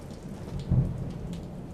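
Steady rain falls on a summer morning in Las Cruces, New Mexico, a continuous soft broadband hiss with a brief low rumble partway through, no voices present.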